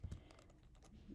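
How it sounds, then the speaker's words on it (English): Quick burst of key presses on a Mac keyboard while a terminal command is entered, soft and close with several rapid taps. "So we're going to type xcode -select"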